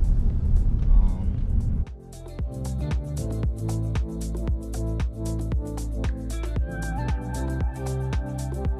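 A car drives slowly through a zoo parking area in Rhode Island while searching for a space, its steady low engine rumble continuous and close, with faint rhythmic thumps over the road.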